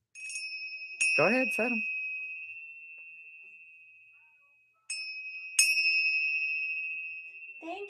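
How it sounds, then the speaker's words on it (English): Tibetan bells ring out in clear, sustained chimes that fade slowly, struck again a few seconds later, with brief talk between the strikes. "Thank you for my Tibetan bells."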